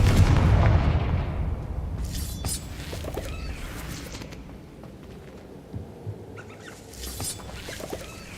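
A Confringo fire spell bursts in Hogwarts Legacy with a heavy, close boom that rolls off into a fading rumble, followed by scattered smaller impacts and effects.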